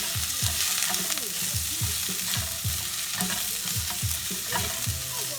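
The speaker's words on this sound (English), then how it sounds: "We can saute up all these beautiful veggies until they're nice and tender" Vegetables sautéing over medium-high heat in a pan for a Sichuan-style beef stir fry give a steady close sizzle, with regular scraping stir strokes repeating through it.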